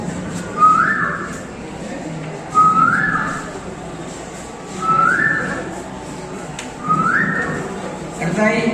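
A mimicry artist at a school arts festival imitates a koel's call with whistled notes, four rising whistles repeated at steady intervals, clear and fairly close over a faint background hum.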